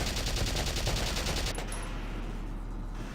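Tank gunfire in Valkyria Chronicles, a dense rattling burst of rapid fire followed by a sustained low rumble, steady and moderately loud.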